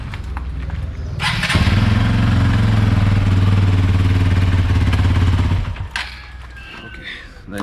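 A Hero Xpulse 200 motorcycle engine idles loudly and steadily with a low rumbling throb for several seconds, then cuts off, leaving quieter background sounds.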